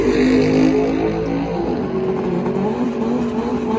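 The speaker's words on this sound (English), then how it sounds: "Do a little burnout, nice little burnout." A 400hp Honda Civic at a drag strip does a burnout: a loud, close engine roar that revs high and then settles into a strained, wavering note with a harsh edge of tire noise.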